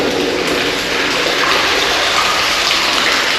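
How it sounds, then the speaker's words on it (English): Water leaks from a coal seam in an old underground mine and pours down as a steady, close, fairly loud gushing and splashing. The flow holds unbroken for a few seconds, with no voices. "there's a coal seam that's leaking water from probably an upper level"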